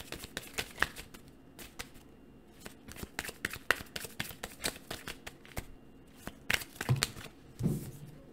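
Tarot cards being shuffled and drawn, a run of quick crisp riffles and slaps at close range, irregular in rhythm with short pauses, ending in a softer rustle.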